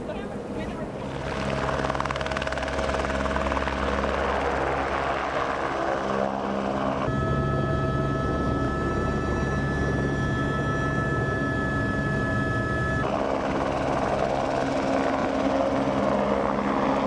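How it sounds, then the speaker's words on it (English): Helicopter flying over Fox Glacier on New Zealand's South Island, its rotor and turbine drone steady and loud throughout, with a tonal shift partway through as the engine note changes. "it was time to squeeze back into our helicopter again"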